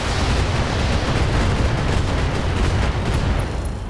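A BattleTech video game mech unleashing an alpha strike with all weapons, a dense, roaring barrage of blasts and explosive rumble that fills the whole stretch, loud and continuous with no talk.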